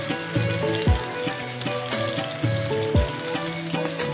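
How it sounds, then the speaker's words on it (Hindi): Chicken pieces frying in a pan, a steady sizzle with a few knocks and scrapes as the pieces are turned, close and moderately loud with no voices. "एक साइड से हमारा चिकन फ्राई हो चुका है तो अब हम पलट लेते हैं चिकन को।"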